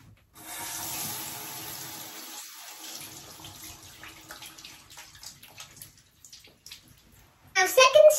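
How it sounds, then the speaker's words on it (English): Water runs steadily from a tap as hands are wetted at a sink, a continuous hiss for several seconds that breaks into irregular splashes, ending with a louder burst of water. "First step, wet your hands."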